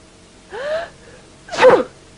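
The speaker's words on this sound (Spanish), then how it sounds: "Cuando este área se congestiona o se irrita, estornudamos." One person sneezes once nearby: a rising breathy intake followed by a loud, abrupt explosive burst, with no talking.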